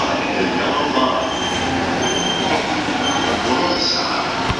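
An E259 Narita Express limited express on the Sobu Line rolls into Tokyo Station, a steady loud rumble of wheels on rails with brief squeals, heard continuously without any talking.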